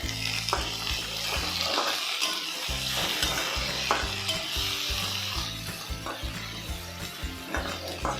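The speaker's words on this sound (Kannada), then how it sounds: "ಎಲ್ಲ ಒಂದು 2 ನಿಮಿಷ ಫ್ರೈ ಮಾಡ್ಕೊಳ್ಳಿ ಚೆನ್ನಾಗಿ." Whole spices and coriander fry and sizzle in a pan for a lima bean curry, a steady close crackling hiss with stirring scrapes throughout and no voices.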